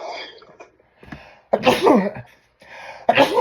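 Two loud, abrupt sneezes about a second and a half apart, each a sharp burst of breath and voice, following a few quieter sounds.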